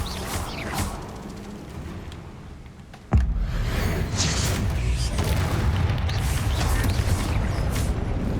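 A Bombarda blasting spell detonates in Hogwarts Legacy with a single sharp, loud explosive burst that gives way to a sustained roaring rumble, following a quieter stretch of ambient game sound.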